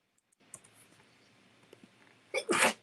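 A single sharp sneeze bursts out near the end after a quiet stretch with faint small clicks and rustles.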